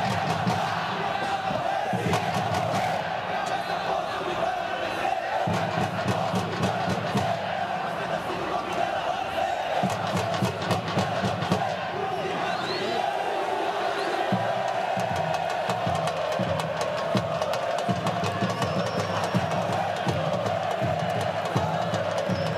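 Vitória football supporters fill the Mário Pessoa stadium with loud, continuous chanting and cheering, a dense roar of voices with rhythmic surges throughout.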